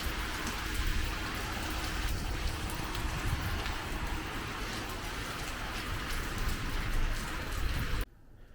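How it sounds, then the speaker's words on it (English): Heavy rain pours down steadily and loudly, a dense continuous wash of drops hitting surfaces that fills the clip before cutting out abruptly near the end. "Look at this rain. Absolutely hideous."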